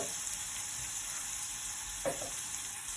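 Onions sautéing in a pan for stuffed butternut squash give a steady, close sizzle, with a brief stirring scrape partway through.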